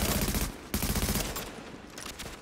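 Rapid automatic gunfire in the video game The Division, a dense close burst of shots that breaks briefly, resumes, then tapers off, with no talking.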